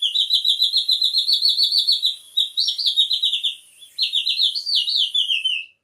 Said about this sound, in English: The trick to this warbling sound is in the name, water whistle.